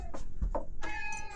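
Several cats meow insistently at close range while waiting to be fed, a string of loud, overlapping cries building into a drawn-out, rising yowl near the end.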